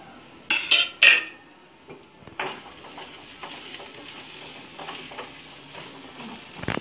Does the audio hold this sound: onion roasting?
yes